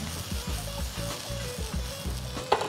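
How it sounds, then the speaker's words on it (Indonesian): Food fries in a pan seasoned with black pepper and is stirred, a rhythmic scraping of utensil against pan over a steady sizzle, ending in a brief sharp clink. "Kita aduk."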